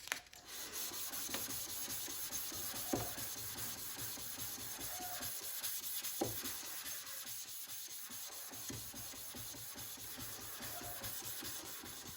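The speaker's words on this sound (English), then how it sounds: "Now it's time to hand sand it." A steel hunting knife blade rubbed by hand with 600 grit sandpaper in a back and forth motion, a steady, continuous close-up scratching hiss with no pauses.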